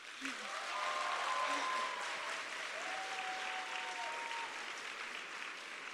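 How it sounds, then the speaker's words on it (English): Sustained audience applause fills an opening plenary session of a climate conference, a dense wash of clapping that swells early and holds steady for the whole stretch. "So yes, applause for us."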